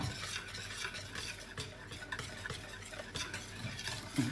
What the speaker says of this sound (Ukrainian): Знову ж таки все добре перемішуємо.